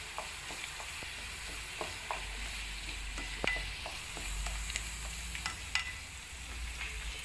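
Mutton curry simmering in a pan on a medium flame, a steady low bubbling sizzle with scattered soft pops and occasional faint utensil ticks, continuous and close with no talking.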